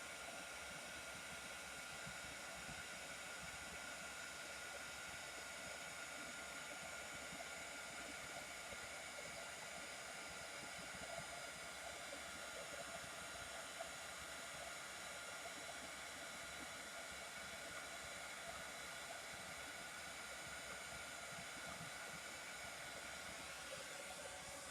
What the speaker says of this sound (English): I'm going to heat emboss off the side so it's not super loud for you guys.